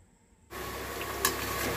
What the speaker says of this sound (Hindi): देखिए इस तरह से अच्छे से फ्राई करने हैं